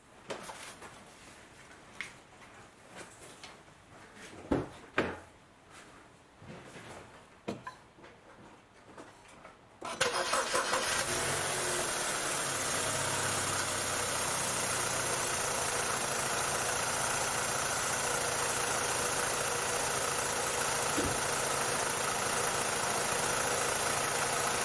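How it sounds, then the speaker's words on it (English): A 2006 BMW E90 engine, after a sensor housing seal repair, cranks and catches with a sudden loud start after about ten seconds of quiet clicks and handling noises, then settles into a steady, even idle that runs to the end. "I'm just gonna get the car started now."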